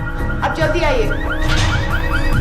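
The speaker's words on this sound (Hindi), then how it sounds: "वो गाड़ी का अलार्म बज रहा है।" The alarm of a green Volkswagen car sounds off with repeated rising and falling electronic warbles, fairly close and steady, while a person speaks loudly over it.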